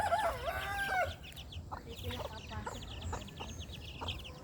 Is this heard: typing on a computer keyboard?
no